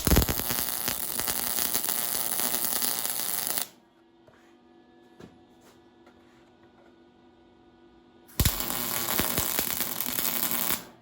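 Tack welding on a scratch-built hot rod front crossmember: two long bursts of dense crackling arc noise, loud and close, separated by a quiet pause of several seconds with faint hum.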